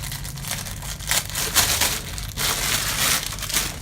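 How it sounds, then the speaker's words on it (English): Plastic packaging around straight 16-inch hair bundles crinkles and crushes noisily at close range, a continuous rustle with sharper crackling bursts and no voices. "Sorry for the noise with the plastic"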